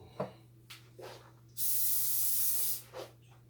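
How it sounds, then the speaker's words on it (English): A single sustained hiss from a cooking spray can spraying into a pan for about a second, set between a few soft clunks and taps nearby. "Spray a little more spray in it."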